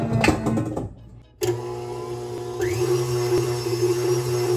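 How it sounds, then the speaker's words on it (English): Electric mixer whipping egg yolks for baking: a steady, continuous motor whine with a constant hum, starting abruptly after a brief quieter moment and running at even loudness to the end. "and then I'm putting this in the mixer"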